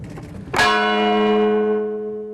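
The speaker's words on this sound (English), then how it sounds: "This bell is what's left of a Biloxi church" A single church bell rings once in the ruins of a Biloxi church after Hurricane Katrina, a clear struck tone with a long, steady ring that sustains and slowly decays, close and loud with no talk.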